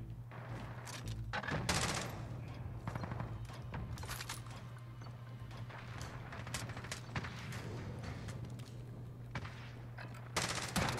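Gunfire from a gold MK2 Carbine rifle in Modern Warfare, with a series of sharp single shots spaced irregularly over a constant low game hum, plus a burst cluster near the start and more shots at the end.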